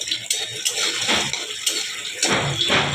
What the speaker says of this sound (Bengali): জল দিলাম, একটু ভেজে দেবো।